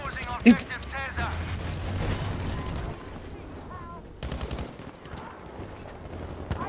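Commando carbine fire in Battlefield V, a sharp shot followed by scattered gunfire and booms in a jungle map, heard under someone talking over it.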